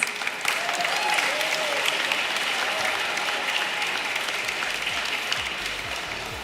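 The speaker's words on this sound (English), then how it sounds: "A big round of applause, please." Hall audience at a European youth prize ceremony in Aachen applauding as a country is announced, steady crowd clapping throughout with faint voices underneath.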